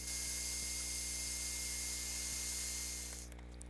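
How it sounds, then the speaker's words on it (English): Electric embossing heat tool blowing steadily to melt white embossing powder on textured stamped paper, a continuous loud fan-and-air hiss with a constant low hum that cuts off near the end. "Next I'll use my heat tool to heat set this to melt the embossing powder"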